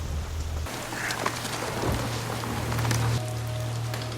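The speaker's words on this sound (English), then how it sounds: "began working on the repair under the pouring rain" Pouring rain in a movie scene where a man repairs a car beside a tow truck: dense, steady hiss of rainfall on surfaces with a low hum underneath and a few brief sharper knocks, no voices.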